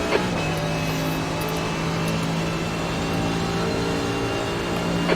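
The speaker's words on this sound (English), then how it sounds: "There's a car leaving the pits." Steady engine drone from a race car at Road America, with a car leaving the pits and accelerating; the note holds continuous and fairly loud, with small rises near the start and end and no voices.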